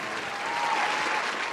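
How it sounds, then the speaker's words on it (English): Live podcast audience breaking into a brief, dense round of applause for a host's father, close and steady throughout. "Hold a round of applause for my dad."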